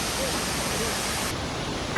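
Shiraito Falls in Japan roaring nearby, a broad continuous rush of falling water, loud and steady throughout, with a voice faintly heard under it.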